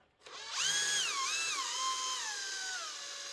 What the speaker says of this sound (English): I've put this in the chuck of the battery drill